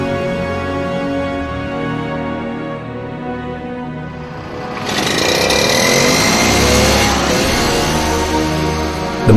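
A motorized waste-collection tricycle driven by a 0.5-liter engine runs loud and close, a buzzing two-stroke-like drone that swells and grows rougher midway as the motor revs up, with no speech.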